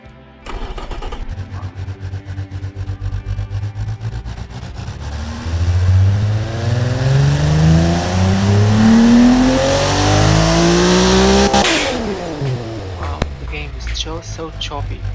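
A tuned 746-horsepower turbocharged car engine in a racing video game revs hard and repeatedly, rising and falling whine with loud climbing pitch sweeps, then a sharp cutoff and lighter rev, close and dominant.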